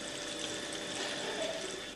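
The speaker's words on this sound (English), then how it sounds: "The tube is kept very cool, so the water vapour condenses and water trickles out the end" Condensed water trickles out the end of a cooled distillation tube in a steady, soft, continuous liquid hiss with no voices.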